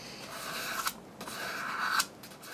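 Silicon carbide slip honing a Mora 164 hook knife, the slip twisted while stroking the blade: a few soft, scratchy rasping strokes, close and fairly quiet, with no talk.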